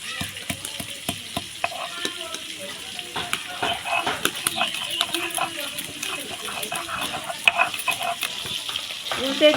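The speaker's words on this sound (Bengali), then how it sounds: "মাছ ভাজবো, আরও তেল দিয়ে দিব একটু" Tangra fish frying in oil in a pan, a continuous close sizzle with crackling pops and occasional stirring scrapes, someone talking over it throughout.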